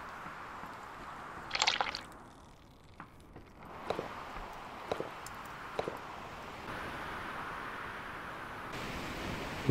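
Water being drawn in the sailing game Sailing Simulator: soft squishing, dripping and liquid splashes, a handful of short bursts over a steady faint hiss, with no talk.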